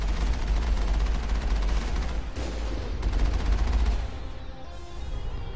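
Sustained, dense gunfire in Mass Effect, heavy continuous rattling bursts that fill the scene at high volume, easing briefly near the end before resuming.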